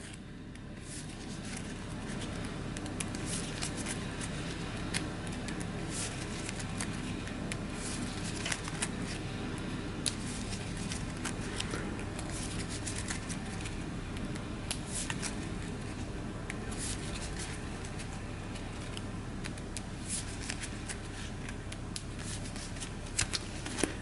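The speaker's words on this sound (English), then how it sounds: "And we'll give my deck a shuffle." A deck of cards being shuffled during a tabletop game, a long run of close, crisp riffling and patting that continues steadily with no talk.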